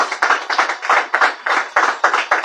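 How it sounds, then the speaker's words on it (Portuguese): A church congregation claps along in a quick, rhythmic burst, the hands striking sharply in regular beats with no talk during the short stretch. "Uma salva de palmas."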